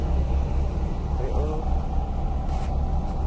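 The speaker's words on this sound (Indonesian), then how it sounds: "ikutin terus perjalanannya seperti apa dengan bis ini." Heavy, continuous low rumble of a PO Antar Jaya bus cruising along the road, heard from inside the cabin with steady road noise and light rattles, and a voice speaking briefly underneath.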